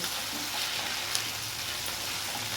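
Spices fry in a pan with a steady, dense sizzle and the odd faint scrape of stirring, close and even in level, with no talking.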